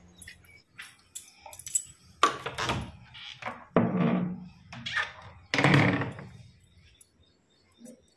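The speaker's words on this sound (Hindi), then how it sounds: "दरवाजा खोल देते हैं" Metallic clicks and clunks of a padlock, a key jangle, then thumps and rattling of a door being worked open in the morning, with brief voices between.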